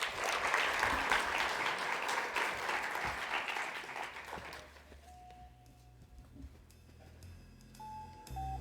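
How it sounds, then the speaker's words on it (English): Conference audience applauding to welcome the Speaker of Parliament, a burst of crowd clapping that fades after about four seconds, leaving quiet room tone with a few faint electronic beeps. "please allow me to give a round of applause and welcome our Honourable Speaker of Parliament"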